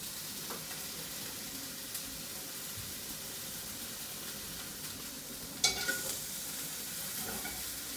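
Sausages and leeks fry in a pan with a soft, continuous sizzle, punctuated by a sharp clink of a utensil near the end and faint stirring movements.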